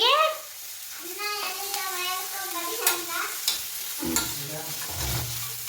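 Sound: frying spices in a pan for mushroom curry

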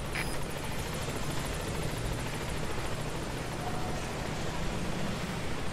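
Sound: helicopter arriving in video game Metal Gear Solid V

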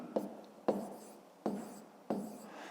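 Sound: writing a maths solution

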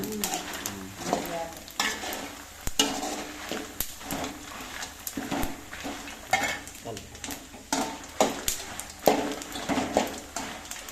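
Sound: roasting coriander seeds and red chillies in a pan

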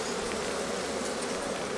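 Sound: honey bees buzzing at hive

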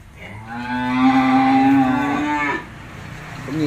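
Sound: cattle mooing at a cattle farm

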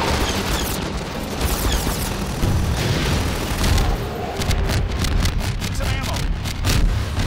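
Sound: rocket being shot down and exploding in the video game Half-Life 2

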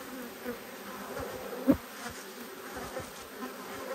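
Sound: agitated honeybees buzzing at a hive

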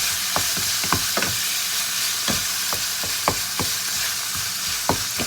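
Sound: stir-frying minced pork with basil and konjac noodles

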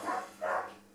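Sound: dogs barking

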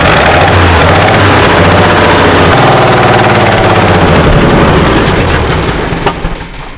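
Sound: old WWII Chevrolet truck engine trying to start and run

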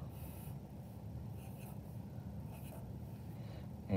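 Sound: marker drawing on paper

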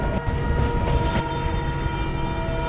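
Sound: train arriving at a station in an Indian train simulator video game

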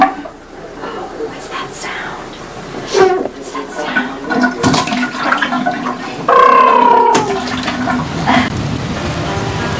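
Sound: toilet flushing

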